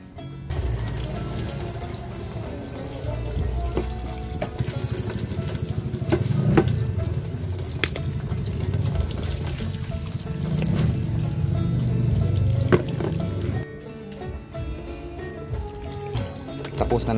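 Running water splashes and rinses inside the plastic coolant reservoir of an Isuzu Hi-Lander, with rust-colored water, clattering knocks and sloshing throughout, and a voice occasionally audible.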